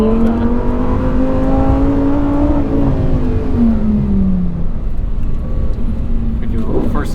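A 2022 Lamborghini Huracan engine pulls hard in first gear, a loud, close droning roar that climbs steadily in pitch, then drops away and fades to a lower rumble, with voices talking faintly underneath.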